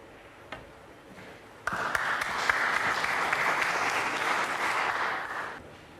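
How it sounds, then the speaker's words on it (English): Crowd applause breaks out across a snooker arena at the UK Championship, a sudden onset that settles into a sustained, fairly distant wash of clapping. "Crowd applause die down from the other side of the arena."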